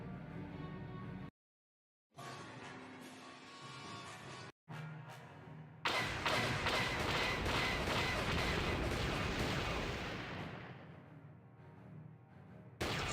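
Gun turrets firing at Sith fighters in Star Wars: Knights of the Old Republic: loud, heavy blasts of continuous cannon fire, cut by two brief silent gaps and then swelling into a dense, roaring barrage that slowly fades near the end.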